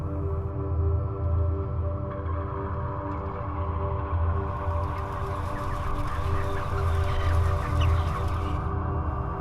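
A crowded Italian chicken farm fills the air with constant overlapping clucking and squawking from many birds, loud and close, over a steady low mechanical hum from the shed.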